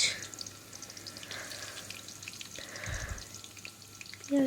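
Onions frying in a hot pan with steady crackling sizzle, punctuated by scraping stirs from a spatula, including a louder stir near the middle and a clack at the end; no voices.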